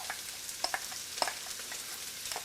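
Diced white onion sizzling in extra virgin olive oil in a Dutch oven over medium-high heat: a soft, even crackle with a few sharper pops and light stirring clicks, close but fairly quiet.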